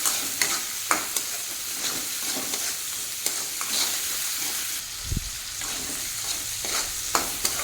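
Green peas fry with prawns in a hot pan, a steady close sizzle broken by repeated scraping stirs and spatula taps, with a dull thud midway.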